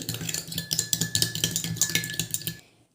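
Homemade shampoo mixture stirred in a bowl, a spoon clinking and scraping in quick repeated strokes, close and fairly loud, stopping abruptly near the end.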